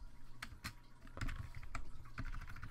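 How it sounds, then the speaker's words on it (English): Quick bursts of keystrokes on a computer keyboard, close and fairly quiet, in irregular clusters of taps with short pauses between them. "Let me type something in."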